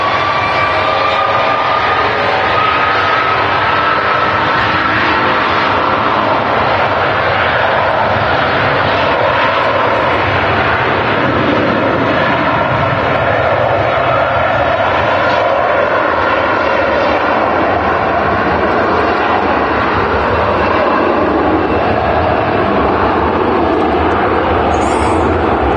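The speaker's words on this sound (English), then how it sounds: "Virgin A330 departing 23 left." A Virgin Atlantic Airbus A330 with Rolls-Royce Trent 700 engines departs runway 23 left at Manchester Airport, a loud, sustained jet roar with rumbling low end and a rising whine, holding strong and steady throughout without speech.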